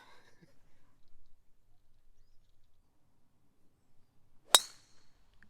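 One sharp, loud crack of a golf driver striking the ball off the tee on a blind tee shot at a short par-4 hole, alone against near silence and faint outdoor sound.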